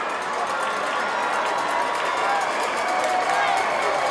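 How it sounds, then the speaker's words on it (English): A packed high school football stadium crowd at a Massillon Tigers versus Glenville Tarblooders game roars steadily and loudly, a dense wall of cheering with shouts and whistles that never lets up. "This Massillon crowd is going crazy."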